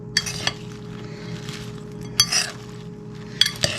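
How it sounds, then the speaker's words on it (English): Chicken wonton taco filling stirred in a pan, with a utensil clinking and scraping against the metal in a few sharp, close knocks over a steady low background hum. "Quite a bit of stirring, I think, is going to be needed to get all those flavors mixed in together."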